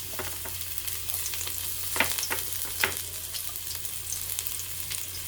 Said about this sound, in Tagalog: Lagay na din natin yung ating bawang.